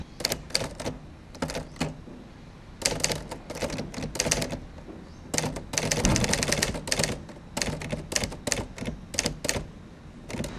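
A mechanical typewriter clatters through bursts of rapid keystrokes separated by short pauses, close and crisp, with no voices over it.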